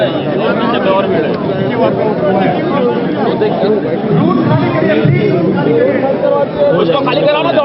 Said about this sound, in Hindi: अभी डबल भीड़ और है, पीछे और भीड़ है।